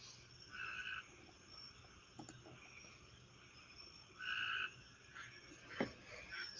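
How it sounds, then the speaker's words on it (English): Tree frogs croak at night behind a barn, bursts repeating every second or two over a steady chorus of insects, moderately distant, with one sharper nearby call near the end. "Now I can hear a tree frog over there going off with all the other tree frogs back here."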